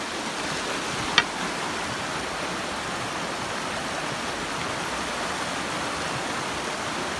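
Steady broadband rush of water pouring at Bonita Falls, loud and close, continuous throughout with one brief sharp click early on and no talk.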